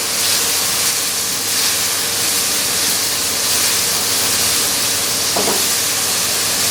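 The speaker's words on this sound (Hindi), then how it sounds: "इसको हमने लाइट से भूनना है" Ingredients for chicken and vegetable macaroni, including chilies, fry lightly in a pan, giving a steady, continuous sizzle and hiss that holds evenly throughout with no talking.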